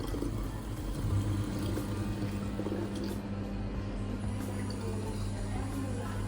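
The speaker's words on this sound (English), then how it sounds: "Okay, let's fill sparkling water." Sparkling water streams from a campus drinks dispenser at TH Rosenheim into a bottle. The flow makes a steady, moderately quiet rush over a low mechanical hum lasting about six seconds.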